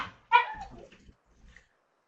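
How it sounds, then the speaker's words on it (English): A dog gives a short bark or yip and then a whimpering trail in an indoor room, moderately close and alone, followed by near silence. "I apologize for barking dogs."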